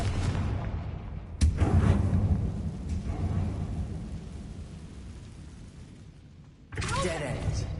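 A Confringo blasting curse from Hogwarts Legacy bursts in a sudden loud explosive crack, and its rumbling boom decays over several seconds before a second blast hits near the end.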